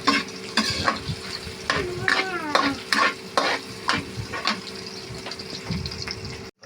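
Onion and garlic sizzle in a hot pan while a utensil stirs and scrapes in short repeated strokes, the steady frying hiss loud and close.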